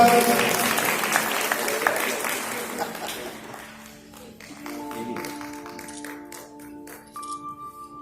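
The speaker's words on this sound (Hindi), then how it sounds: "सभी ताली बजा के चुने इनका" Audience at a district-level educational conference in Udaipur breaks into broad clapping that fades over several seconds, giving way to sustained musical tones.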